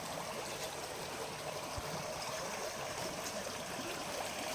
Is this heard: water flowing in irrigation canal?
yes